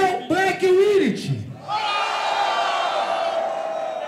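After a shouted call from the host, a crowd at a Brazilian rap battle anniversary event roars in support of Neo, Black and Winnit, a sustained cheer of many voices.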